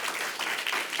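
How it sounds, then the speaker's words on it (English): Brief burst of audience applause for an investor at a live pitch event, a dense wash of clapping that stays even for about a second, faint in level. "please, definitely give him a round of applause to kick us off"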